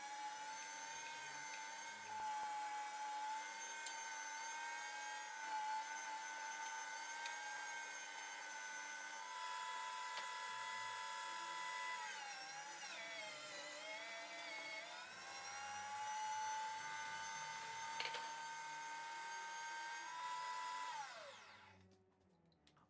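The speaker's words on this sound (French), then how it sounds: "Je passe donc tout ça au hachoir avec la plaque 8 mm pour que ce soit assez fin." An electric meat grinder mincing meat through an 8 mm plate for a skinless Basque saucisson, a steady loud high motor whine with a bright harmonic tone that holds throughout, dips briefly midway, then spins down at the end.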